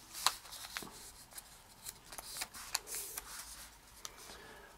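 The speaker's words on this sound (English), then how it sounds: "Fold this flap over this edge, all layers" Paper flaps being folded for an origami model, producing soft, quiet crinkles and sharp little creasing taps in an irregular rhythm, close and faint.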